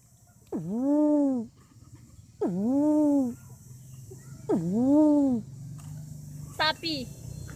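A performer's voice imitates an owl with three long, rising-and-falling hoots spaced about two seconds apart over a steady room hum, followed by a short spoken sound at the end, at an animal-imitation stage show.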